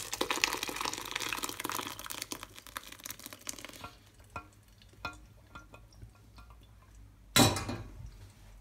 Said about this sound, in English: And now I just pour this mixture into the cheesecloth.